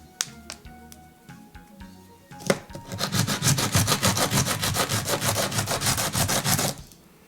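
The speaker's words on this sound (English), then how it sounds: "you can actually break them off and sand down the edges" Dense rhythmic scraping of sandpaper on the edges of cast Cool2Cast craft pieces, a steady run of rapid strokes after a few light taps and clicks, close and fairly loud.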